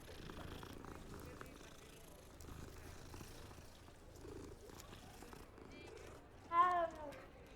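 A cat purrs in the Hogwarts Legacy video game, a low steady rumble running quietly under faint game ambience, with a brief louder chirpy burst near the end.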